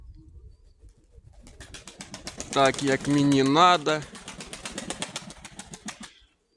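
Pigeons make a short, clear cooing call mid-clip, with soft wing flaps and fluttering around it, close by, as someone speaks briefly.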